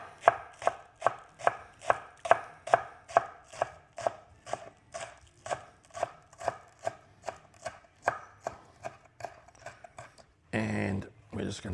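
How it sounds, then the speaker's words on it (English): A knife finely slices spring onion on a cutting board in a steady run of about two dozen crisp, close taps. The rhythm slows slightly toward the end, where a brief rustle follows the last cuts. "And I've got some spring onion. And I'm just going to finely slice."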